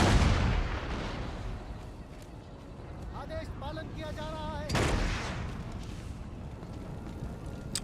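Cannon artillery booms in the strategy game Empire: Total War, with a heavy thud at the start and another strong blast near the middle over a rumbling battle din, while a voice talks throughout.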